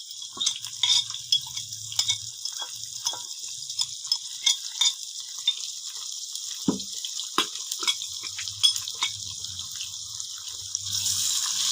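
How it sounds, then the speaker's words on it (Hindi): Tomatoes with spices cooking in a pan, soft frying sizzle and hiss with intermittent stirring and scraping clatters, one sharper knock midway, fairly close and steady throughout. "अब मैं ऐड करूंगी इसमें अपने टमाटर, 3 अदद टमाटर ले लिए हमने"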